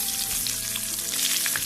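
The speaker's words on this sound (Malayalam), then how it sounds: "ചെറിയ സോസ് പാനിൽ കുറച്ച് എണ്ണ മാത്രം ഉപയോഗിച്ച് വേണം ഇത് വറുത്തെടുക്കാൻ" Prawn vada frying in a little oil in a small saucepan gives a loud, close, continuous sizzle scattered with sharp crackles and pops, with no voices.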